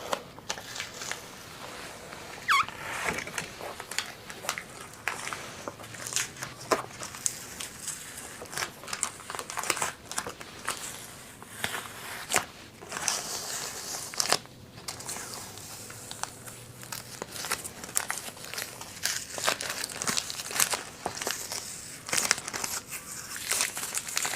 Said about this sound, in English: theoretically, I should be able to take all the tape off at once